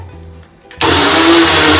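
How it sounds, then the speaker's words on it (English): A blender grinds leftover cooked rice with no water: a short quiet moment, then the motor kicks in abruptly with a loud, constant whirring roar that continues to the end. "Take the blender, add the leftover rice."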